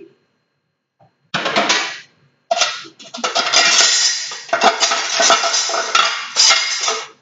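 Small spoons clink against dishes and each other while sugar is being stirred into a homemade slush, in bursts of bright metallic chinks with brief pauses, close and fairly loud.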